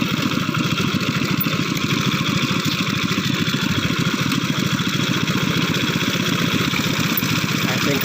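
A saleng motorcycle with sidecar runs steadily close by, its small engine putting out a continuous, even putter and buzz that holds without a break.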